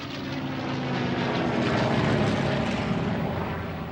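A P-51 Mustang fighter's propeller engine drones loudly and steadily, swelling slightly toward the middle and easing off, with no voices.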